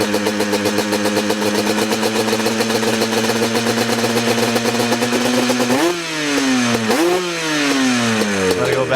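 A 1988 Yamaha Banshee engine idles with a fast, buzzy two-stroke rattle, then the throttle is blipped twice, the pitch rising sharply and falling back each time, close and loud with no speech.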